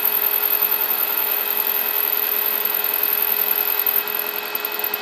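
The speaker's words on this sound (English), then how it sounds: "So I'm milling the slot in the spindle for my friend's wood lathe" A milling machine steadily cuts a slot into the spindle of a Record CL3 wood lathe, holding a loud, continuous whine with a faint tonal hum that dips slightly near the end, and nobody speaks.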